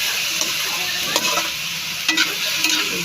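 Cauliflower and mixed vegetables being sautéed in a pan, a continuous sizzle broken by several sharp scraping strokes of a spatula against the metal, close and alone without speech.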